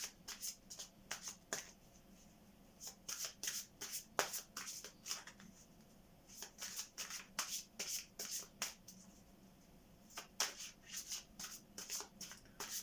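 A deck of cards shuffled and dealt by hand at close range: bursts of crisp papery riffling and snapping flicks come in quick clusters, separated by short quiet gaps.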